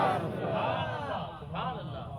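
Crowd at a religious gathering with naat and sermon chanting a devotional slogan in unison, a swelling roar of many voices, loud and close, rising and dipping over two seconds.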